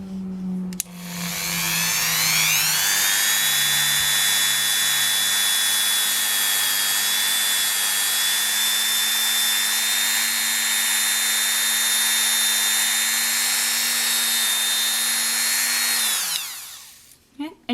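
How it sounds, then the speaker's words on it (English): A Dremel rotary tool spinning a buffing wheel against a polymer clay earring, a steady high-pitched whine that starts up, runs loud and even for about fifteen seconds, then winds down. "Then I'm going to use a Dremel tool with my buffing wheel."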